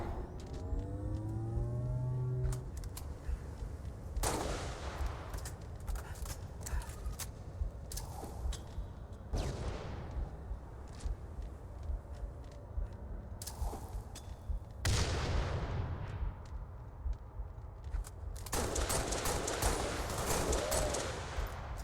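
Gunfire in a shooter video game comes in repeated sharp bursts and volleys, loud and close, spread across the stretch with brief gaps in between.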